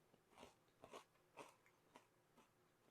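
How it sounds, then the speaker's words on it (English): Five crisp crunches spaced about half a second apart, someone biting into brittle freeze-dried Junior Mints close to the ear, with quiet breathing between bites. "taste just like a junior mint, but crunchy"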